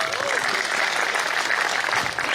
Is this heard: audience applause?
yes